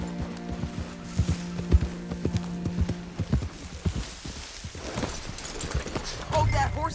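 Horse hooves clip-clop steadily at a walking pace on a trail in the video game Red Dead Redemption 2, a close, regular rhythm of sharp knocks running under low background music and talk.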